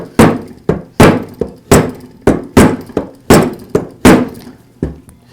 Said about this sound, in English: Once I have it aligned, I'll give it a couple of taps with the rubber shop mallet.